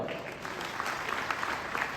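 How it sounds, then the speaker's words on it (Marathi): An audience at a public gathering claps together in sustained, even applause, heard at moderate distance. "सर्वांनी जोरदार टाळ्या वाजवायच्या"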